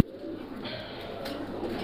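Fancy pigeons at a farm in Natore give a short, close burst of soft, throaty cooing that runs steadily for under two seconds with no talk over it.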